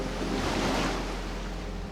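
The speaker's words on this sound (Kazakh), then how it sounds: "Толқындар келе береді екен не маған?" Tsunami waves in a Roblox game make a continuous soft rushing wash of surf, steady and fairly quiet, with no other sounds on top.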